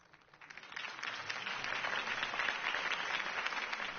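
Video game crowd applause swells up from quiet and settles into sustained, dense clapping and cheering that continues steadily to the end.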